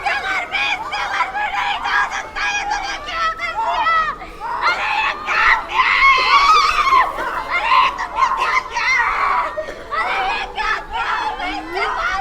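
Huge crowd of devotees at a religious dham gathering in India, many voices shouting and screaming together in a continuous dense roar, with sharp individual yells rising out of the din throughout.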